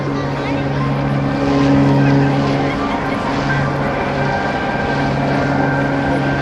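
The Oracle Challenger aerobatic airplane's propeller engine drones continuously at a close, even pitch during an airshow display, with a voice speaking over it.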